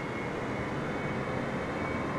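A Boeing 747-8's engines roar in Microsoft Flight Simulator 2020, a dense, steady broadband drone held without change throughout, with no voices.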